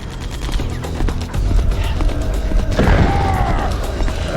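A stun grenade goes off in Metal Gear Solid: The Twin Snakes, a loud blast that rises out of the dense rumble and crackling gunfire of the game, with no talk.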